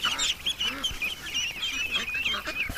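Ducks at a lake, a cluster of birds giving repeated short nasal calls and honks, close and overlapping, with a faint voice in the background.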